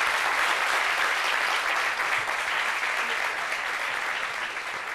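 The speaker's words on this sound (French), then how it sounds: "On l'applaudit, s'il vous plaît." Studio audience on a French television set applauding, a dense, even wash of clapping that holds steady for several seconds and fades slightly at the end.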